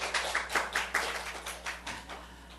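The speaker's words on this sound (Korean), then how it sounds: "우리 하나님께 박수 올려드려요." A small church congregation claps briefly in a quick burst that tapers off, fairly faint and roomy, with no one speaking.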